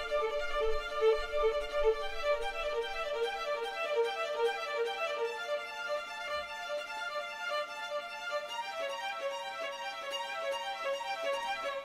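A solo violin line played smoothly legato, notes gliding one into the next in a steady melodic phrase with no talking.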